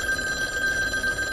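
A telephone rings with a steady electronic tone, heard alone and fairly loud.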